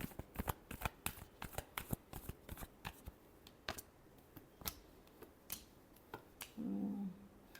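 A deck of tarot cards is shuffled by hand in a series of crisp, close riffles and snaps. A short low hum comes near the end.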